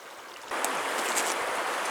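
Small boat running on the Delta River in Alaska, a steady broadband rush of engine and water that jumps louder halfway through and holds constant, close to the listener.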